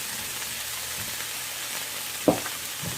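Onions and tomatoes saute in a pan with a steady soft sizzle, a brief louder clatter of stirring near the end, no talking.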